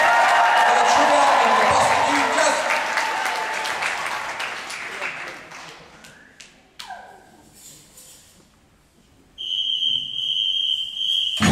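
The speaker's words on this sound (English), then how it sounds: "So a small round of applause." Audience applause at a concert, a dense burst of clapping that thins out and fades into scattered claps, followed by a high sustained tone near the end.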